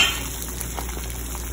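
A pot of water is at a full boil on the stove, giving a steady, close bubbling and hissing that continues on its own without any talk.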